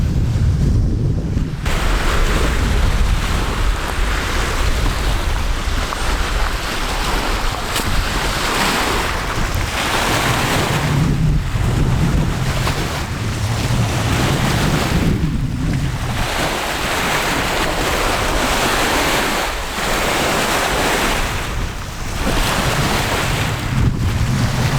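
Strong wind in Glacier National Park buffets the microphone in loud, continuous gusts, with roaring surf and waves beneath it; no one speaks.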